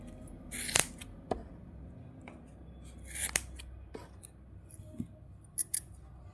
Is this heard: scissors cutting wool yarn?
yes